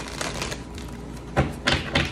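Tarot cards are shuffled in a few crisp riffling bursts, each ending in a soft slap, close and clear with no talking.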